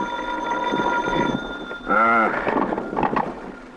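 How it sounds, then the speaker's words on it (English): A hotel room telephone rings once in a radio drama, a short, bright ring that cuts in after a quieter stretch with a faint tonal background. "until my hotel room phone rang in the morning"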